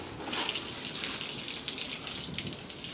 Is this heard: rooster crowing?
no